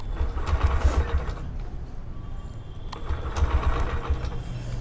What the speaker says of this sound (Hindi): बाइक को स्टार्ट करके दिखा देता हूँ मैं